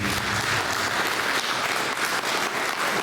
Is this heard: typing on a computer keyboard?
no